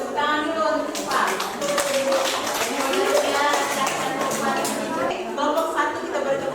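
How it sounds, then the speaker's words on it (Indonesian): Classroom of students clapping hands during a religious education lesson, a steady patter of claps mixed with children's chatter and voices throughout. "beri tepuk tangan dulu untuk Pak."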